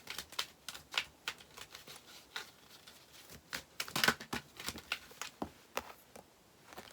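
A deck of oracle cards is shuffled by hand: rapid, crisp riffling flicks and papery snaps in an uneven stream, close and moderately loud, with no talking.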